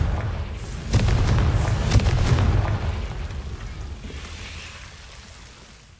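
A Confringo blasting spell in Hogwarts Legacy erupts as a heavy boom with a rumbling burst that fades slowly over several seconds.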